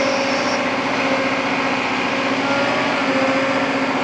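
A JCB Pothole Pro road machine milling away the ramped edges of a pothole, a loud, continuous droning engine and cutter roar with a steady tonal whine, unbroken and close throughout.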